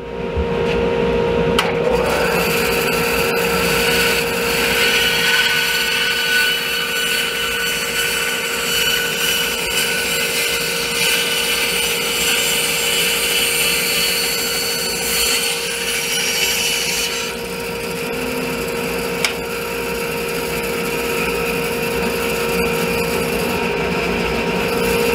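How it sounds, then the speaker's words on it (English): A bandsaw cuts out wooden pieces for a vinyl record storage build, a loud, steady machine hum with a continuous rasping cut running for the whole stretch. "So I'll go over to the bandsaw and start cutting those pieces out."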